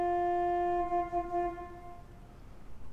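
A single pipe organ stop in a church sounds one clear, sustained note that grows quieter and fades out after about two seconds, heard faintly and alone.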